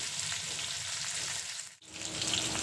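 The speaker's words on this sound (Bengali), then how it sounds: "মাছগুলো দুপাশটায় ভাজা হয়ে গেছে এখন মাছগুলোকে তুলে নিচ্ছি" Spiced fish frying in hot oil, a steady close hiss and crackle with a brief dip in the sizzle near the end, no talking.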